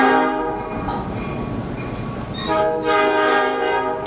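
A train rolls past close by with its horn blaring in long sustained blasts over the steady rumble of the cars, loud throughout with no voices.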